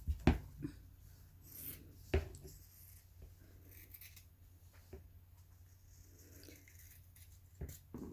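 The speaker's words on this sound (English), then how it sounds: "I'm gonna go ahead and cut this part, and got my fabric scissors" Quiet snipping of fabric shears through cloth: a few sharp cuts separated by soft rustling and handling noise, with no talking.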